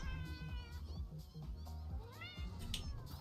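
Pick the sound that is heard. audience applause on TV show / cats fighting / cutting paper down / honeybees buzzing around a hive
cats fighting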